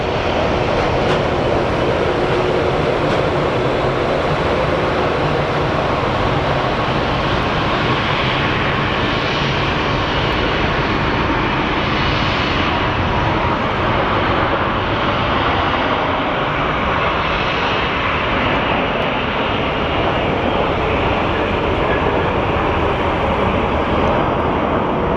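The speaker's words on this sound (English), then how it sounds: "We have our Southwest plane on landing on runway 25 right." A Southwest airliner lands on runway 25 right at Phoenix Sky Harbor Airport, a loud, unbroken engine roar that holds steady throughout.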